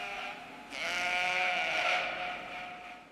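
Sheep bleat loudly and repeatedly from close range at a meat processing factory, several overlapping calls forming a continuous noisy chorus.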